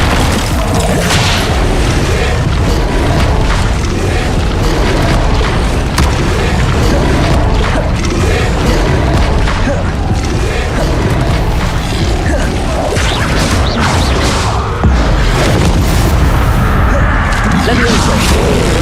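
The Incendio fire spell is cast repeatedly in the Hogwarts Legacy video game, with loud, dense booming blasts and crashes that continue without a break.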